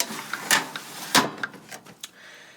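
Several short wooden knocks and scrapes as a drawer is pulled open, close and fairly quiet, with small taps trailing off.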